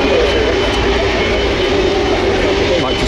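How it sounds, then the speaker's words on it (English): An Airbus A330 airliner taxis past the runway visitor park at Manchester Airport, giving a steady, loud jet-engine roar that holds for about three seconds, with voices talking over it. "Might just hear the A330."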